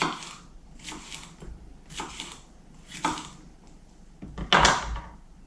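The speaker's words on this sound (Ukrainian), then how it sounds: "Тепер нарізаю болгарський перець." Several slicing strokes of a knife through crisp bell pepper on a board, cutting strips about a second apart, close up, ending with a louder clatter.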